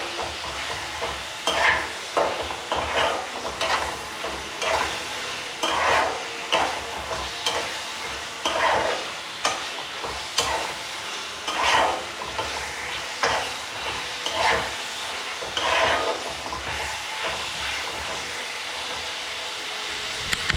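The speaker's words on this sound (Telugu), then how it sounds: "సో ఈ పన్నీర్లో కనుక మిక్స్ అయితే ఒక 5 మినిట్స్ దీన్ని వేయించుకోండి బాగా." Paneer fries in a pan, giving a continuous sizzle broken by repeated scraping and stirring strokes in an uneven rhythm, close up with little or no talk.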